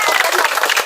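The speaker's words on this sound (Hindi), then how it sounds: "तालियां" A small family group playing games at home gives a quick burst of applause as a gift is handed out. The brief, close clapping mixes with voices.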